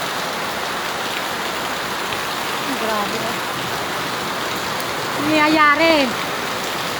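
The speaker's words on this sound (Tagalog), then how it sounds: "Sobrang init, sobrang lakas naman ang ulan." Heavy rain pours down steadily as a broad, constant hiss close by, while a voice talks briefly over it near the end of the downpour.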